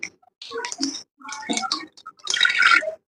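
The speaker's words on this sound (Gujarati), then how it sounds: "કુકરમાં થોડું પાણી નાખી" Water is poured into a pressure cooker with dal inside, heard as several short splashing and trickling bursts with gaps of silence between them, close and clear.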